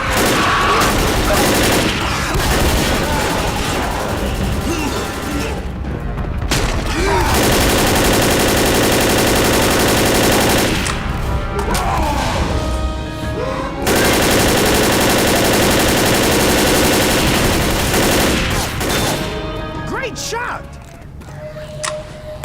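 Loud, close gunfire from the video game Left 4 Dead, dense rapid automatic bursts running almost continuously with short pauses, under a talking voice.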